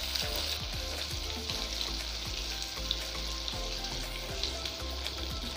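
Chopped onions fry in hot oil in a pan, a steady close sizzle with crackling and occasional soft stirring scrapes, alone without voices.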